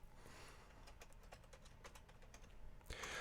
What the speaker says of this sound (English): I'm just going to type in Retrosheet here.